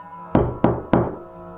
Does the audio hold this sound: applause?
no